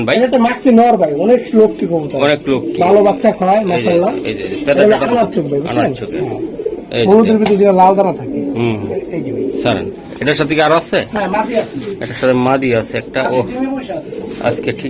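Racing pigeons coo softly in a loft, their calls heard beneath continuous close-up talking by several people.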